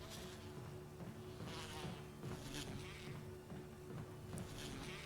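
Continuous droning buzz of bees in the video game Resident Evil 1 Remake, a steady hum with fluttering swells, fairly quiet and heard without any talking.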